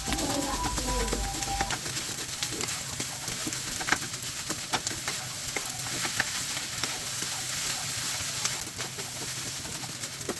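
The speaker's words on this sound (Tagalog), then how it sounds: "Durugin natin yung itlog. Yan, haluin na natin hanggang sa maluto." Fried rice with egg sizzles steadily in a hot pan while a spatula stirs and scrapes, giving irregular clacks over the constant crackling hiss.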